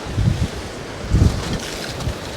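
Strong head-on storm wind while shore fishing buffets the microphone in loud, gusty low rumbles that surge and fade over a constant roar.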